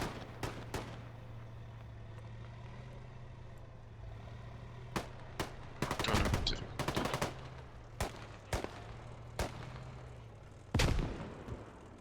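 Artillery fire in the video game Clash of Nations, a series of sharp, separate gunshot-like bangs with a few rapid bursts, heard over a low steady engine drone.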